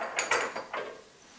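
A spoon stirring kitcharee soup in a cooking pot, giving three or four short, bright scraping clinks of metal against the pot, fairly close, with no talk over them.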